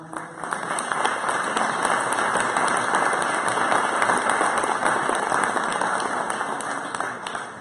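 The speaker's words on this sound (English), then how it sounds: "Please join me in a round of applause of welcoming" Dense, even applause from an audience at a policy briefing on Venezuela, a steady wash of many hands clapping for several seconds at close range with no speech over it.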